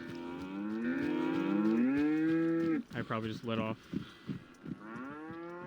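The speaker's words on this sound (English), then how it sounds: "Shut up, you stupid cow." A long, loud moo from a cow in the video game Hunt: Showdown 1896 rings out close by, followed by someone speaking briefly over faint background noise.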